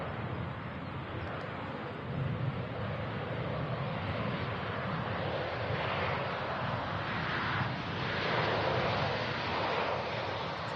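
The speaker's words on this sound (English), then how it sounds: "KLM City Hopper Embraer touching down from Amsterdam Schiphol Airport. Oh, them foot brakes working hard," A KLM Cityhopper Embraer jet arriving from Amsterdam Schiphol touches down at Manchester Airport and brakes hard, heard as a sustained broad roar at a distance, mixed with wind noise, with no voices.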